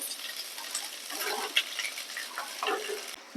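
Cooled cooked rice is stirred into a pan with cumin seeds, green chillies and salt for jeera rice, with soft, intermittent spatula scrapes and rustles ending in a sharp knock.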